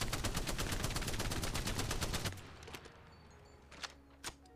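Rapid automatic gunfire from an R99 in a shooter game, sprayed in a steady, dense burst while recoil is held down, cutting off abruptly after about two seconds and followed by a few faint isolated shots.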